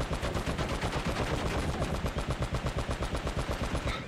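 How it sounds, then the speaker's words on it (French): An anti-aircraft gun fires in the video game Uncharted, a rapid, rhythmic burst of heavy repeated shots pounding steadily for several seconds, loud and alone. "C'est un canon anti-aérien."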